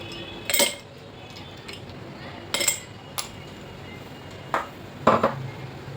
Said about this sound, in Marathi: थोडासा चाट मसाला आणि बर्फाचा तुकडे टाकून घेते